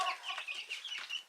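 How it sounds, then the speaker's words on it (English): Chickens cluck in a big chicken house with a cement floor, a busy overlapping flock of soft, repeated clucks and chirps that keep going at moderate volume, close by, with no talk. "Moving on up, huh, chickies, in the big chicken house."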